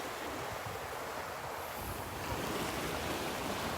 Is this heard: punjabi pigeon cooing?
no